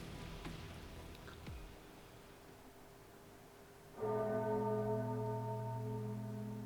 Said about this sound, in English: Anduin hears a bell, clear as day.